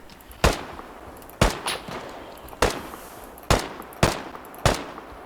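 Gunfire in the video game Deadside: six loud, sharp single shots spaced about a second apart, each with a short echoing tail over a steady background hum.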